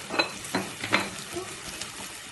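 Moong dal tadka being stirred in a pan as turmeric and salt go in, with a few sharp scraping strokes over a soft, steady sizzle, close and moderately loud.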